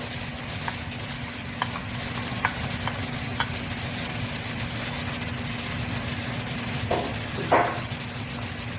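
Garlic sizzles in a pot while a spoon stirs it for one-pot fonio jollof, a steady broadband hiss with occasional scraping clicks and a low background hum, no voices.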